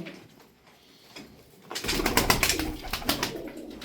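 Pigeons cooing at a coop of Turkish flying show birds, soft and faint at first, then a dense, loud burst of repeated coos and bird calls from about two seconds on, close by.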